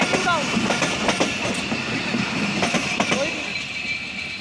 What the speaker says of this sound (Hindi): खैबर मेल जो अभी पास थ्रू हुई